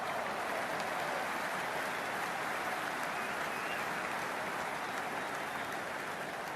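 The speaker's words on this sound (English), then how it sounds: "all these spectators here today completely enthralled and energised, judging by that noise anyway" A stadium crowd in the Cricket 26 video game roars in a dense, steady wash of cheering and applause, loud and constant from start to finish like heavy rain.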